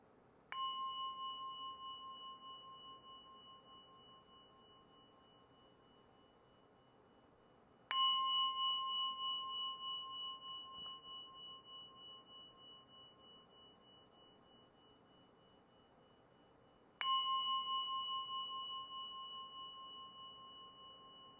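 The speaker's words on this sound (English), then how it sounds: "I will ring 3 bells, and we'll take a few breaths, and then I'll ring 1 bell to end." Mindfulness bell is struck three times, evenly spaced about eight seconds apart; each clear, pure ring sounds alone in near silence and decays slowly with a gentle shimmer.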